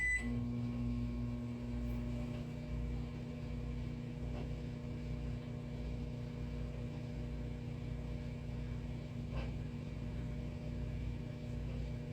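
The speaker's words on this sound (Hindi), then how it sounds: "ये 2 स्लाइस को थोड़ा माइक्रोवेव में डाल के गर्म करता हूँ" A microwave oven hums steadily for about twelve seconds while warming two slices, a constant droning tone with faint clicks and no voices.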